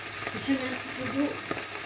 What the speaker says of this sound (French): Je mets un petit peu d'eau.